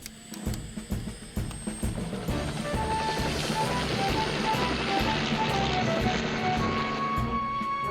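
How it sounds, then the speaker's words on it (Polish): A loud, steady helicopter rumble from the cartoon Fireman Sam, with rhythmic low-end chopping as it passes close overhead, building and holding throughout. "Słychać helikopter Toma."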